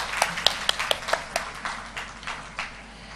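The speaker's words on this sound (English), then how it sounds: "Please welcome our session chairs with a huge round of applause." Sparse claps from an audience at a live health conference, heard as a few separate, fairly faint hand claps spaced out over a few seconds with a quiet room tone behind them.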